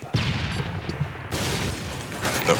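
A grenade detonates in a Modern Warfare 3 match, a sharp close boom followed by rumbling blast noise and further bursts of gunfire-like crackle, with no voices over it.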